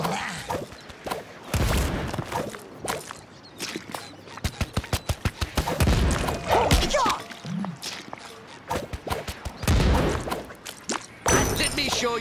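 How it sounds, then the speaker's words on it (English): Pirate cannons fire in the SpongeBob Cosmic Shake game, loud booming blasts and rapid bursts of impacts mixed with dense game effects and music. "let me show you how a real pirate uses these cannons."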